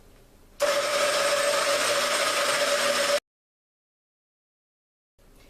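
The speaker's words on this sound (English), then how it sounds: "we want to process them until they're about the consistency of a coarse cornmeal" Food processor grinding nuts for fresh basil pesto, a loud steady motorized whir lasting about two and a half seconds close up, then cutting out abruptly to silence.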